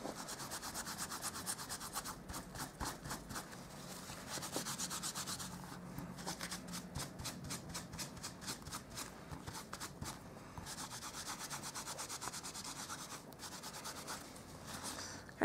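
A rubber stamp being wiped clean of excess ink while making a poinsettia matchbook card, heard as steady close rubbing strokes, soft and repeated for the whole stretch with no talking.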